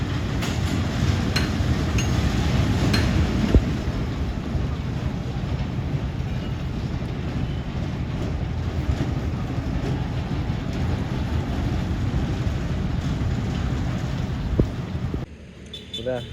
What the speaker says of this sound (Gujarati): રેલગાડી ચાલુ થઈ હો.